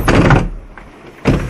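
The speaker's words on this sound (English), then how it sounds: "Difficult door to close." A stiff door is pushed shut in a holiday lodge, two loud rattling thuds a second apart with a quieter scrape between them.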